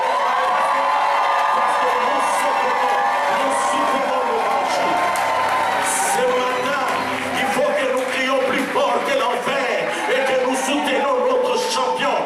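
A church congregation shouts, whoops and cheers loudly and without pause, a dense wall of many voices filling the hall with scattered higher yells on top.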